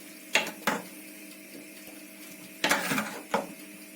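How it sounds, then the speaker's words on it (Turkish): Ladling food into clay güveç casserole pots, four short scraping clinks of a spoon against the pots in two pairs with quiet gaps between, close and without talking. "Evet şimdi güveçlerimi dolduruyorum."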